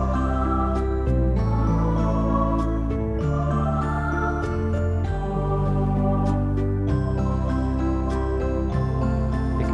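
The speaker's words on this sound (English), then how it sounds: "if you're going to play a waltz, there's a really nice one called Lullaby." A keyboard plays the introduction to the waltz 'Lullaby', with a steady three-beat rhythm under full backing of drums and bass, loud and continuous throughout.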